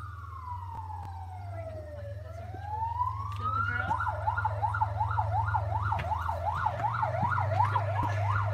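A loud emergency siren sweeps slowly down and up, then switches to a rapid warbling yelp, over a steady low engine rumble.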